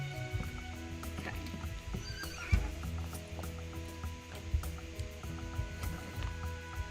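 A horse at a ranch neighs loudly with a rising, wavering whinny, mixed with scattered hoof clops and stamping close by; no one speaks.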